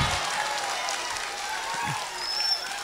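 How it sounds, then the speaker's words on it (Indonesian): An audience at a school attendance app launch for SMA and SMK HKBP Sibolga claps in a broad, steady patter, with a few voices faintly audible underneath. "Tepuk tangan."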